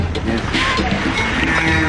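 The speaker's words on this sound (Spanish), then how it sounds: "Todas estas vacas son de él" Cattle of a Nile-region herd low and moo amid a busy outdoor scene, the calls blending with steady background noise and some voices nearby.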